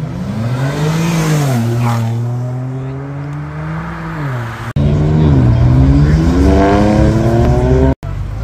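An Audi R8 V10 revving hard at a Cars&Coffee meet in Luxembourg, its engine climbing and falling in loud, close sustained blips with brief cuts between revs, no talk over it.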